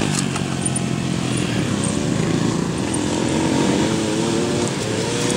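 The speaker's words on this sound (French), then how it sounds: "Là il cherche à passer très vite avec une moto de trial" A trial motorcycle ridden fast by a student at a riding lesson: a steady, close engine drone with a raspy buzz, holding fairly even throughout without pauses, no talking.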